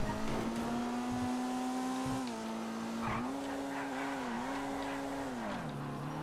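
A GT3 race car in GTA FiveM, its engine note holding a steady high drone that dips and rises with gear changes, joined by brief tire squeal in the middle. It sounds close and loud, with no talking.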